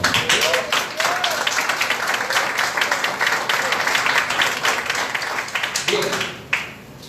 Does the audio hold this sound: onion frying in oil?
no